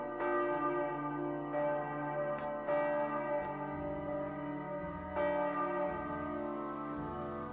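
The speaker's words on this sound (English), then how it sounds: "Church bells are ringing." Church bells in the video game Kingdom Come: Deliverance II ring in slow, resonant strikes, each tone sustaining and overlapping the next, loud and steady with no talking.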